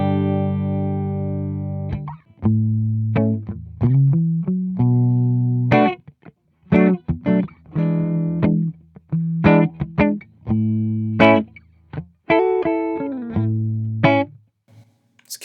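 Clean electric guitar with no compressor engaged, played as a series of plucked notes and chords with sharp attacks, some ringing and some cut short, with brief gaps between phrases and no voices.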